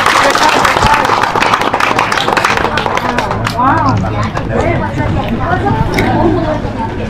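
An audience at a clinic applauds a patient, with steady dense clapping mixed with crowd chatter and voices throughout.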